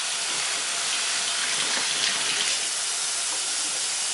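Tap water runs steadily into a sink during handwashing, a constant close hiss with no pauses and no talking.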